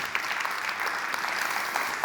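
A crowd claps steadily at a startup pitch event, a dense patter of applause at moderate distance that holds evenly for a couple of seconds.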